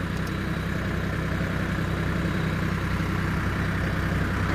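A Swaraj 855 4x4 tractor pulls an 11-tine cultivator with its sensing hitch engaged, the diesel engine droning in a steady, unbroken low rumble close by.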